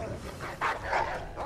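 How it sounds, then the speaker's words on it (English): A dog barks a few times in Assassin's Creed 3, a short burst of bow-wow sounds heard under a player's talking. "I think it's another dog."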